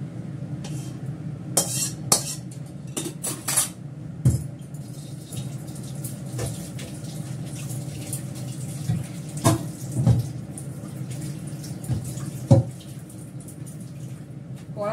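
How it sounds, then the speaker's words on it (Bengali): A kadai wok gets scrubbed on a kitchen slab at the sink, with faint scraping and intermittent clanks and knocks of metal over a low background hum. "এই রান্নাঘরে স্ল্যাবের উপরে কড়া মাজা যায়"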